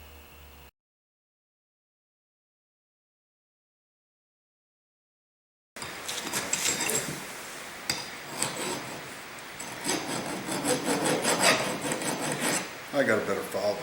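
Hand file rasping on metal while making a specialty tool for working on Quincy compressor valves, heard after a silent gap as dense, continuous scraping strokes, close and fairly loud, with no talk.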